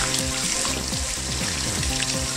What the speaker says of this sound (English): this brush lathers and catches water really well